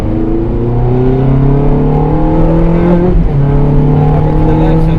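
A race car engine at full power on the Mondello Park circuit, heard loud from inside the car, climbs steadily in pitch, dips briefly at a gear change, then rises again.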